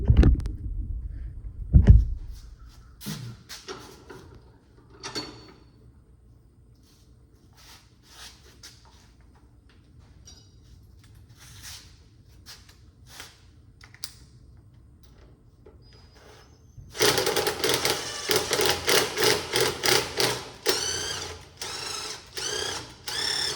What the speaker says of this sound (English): I'm gonna stick the nut in the vise and I'm gonna run it down on that bolt, just back and forth